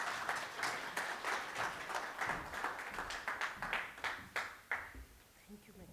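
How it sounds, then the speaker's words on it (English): Audience applause greets the WRC CEO, Dr. Jennifer Molwantwa, at a morning event on water-efficient sanitation systems: a steady wash of many hands clapping that thins out toward the end. "Give her a round of applause, please."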